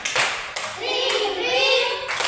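A class of schoolchildren does a rhythmic thank-you clap, a few sharp claps followed by chanted, sung voices over the clapping.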